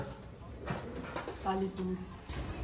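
Soft pigeon coos sound in short phrases over faint background noise and murmuring.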